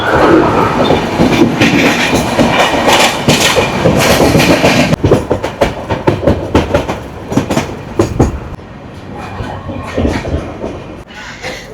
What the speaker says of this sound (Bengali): মারাত্মক স্পিডে এখন আমাদের ট্রেনটা যাচ্ছে।